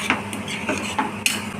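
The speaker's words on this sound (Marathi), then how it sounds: "असं चांगलं हलवायचं चांगलं असं" Boiled chickpeas in a spiced curry base are stirred in a pan, with a few distinct scrapes and knocks of a spoon against the metal over a soft cooking hiss.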